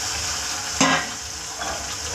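Onion, tomato and peanuts frying in ginger-garlic spice paste give a steady close sizzle, with one brief louder crackle as the ingredients are stirred or added.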